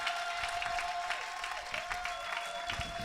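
A church congregation claps at a steady, even patter that stays faint and distant, with a sustained musical tone held underneath throughout.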